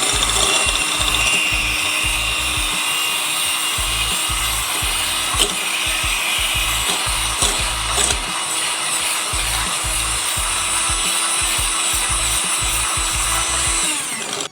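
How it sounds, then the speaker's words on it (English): An electric mixer beats two room-temperature eggs into cupcake batter, a steady motor whine with a rapid, rhythmic rattle of beaters against the bowl running continuously at close range. "We're going to beat this for about 30 seconds or so until they're combined."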